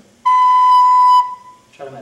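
A recorder sounds the first note of Hot Cross Buns, one clear, steady pitched tone held for about a second, then fading before a brief lower sound at the end.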